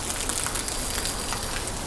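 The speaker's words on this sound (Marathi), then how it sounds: "फायनली पाऊस पडला आहे." Steady rain pours down in Mumbai during the first June monsoon shower, a dense, continuous hiss of drops striking surfaces, close and even throughout with no voices.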